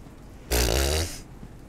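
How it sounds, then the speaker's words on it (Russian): A man snores in a vent in the video game Five Nights at Freddy's: Into the Pit, one deep rumbling snore lasting under a second over faint room noise. "Я точно слышала что-то мужское бормотание и храп"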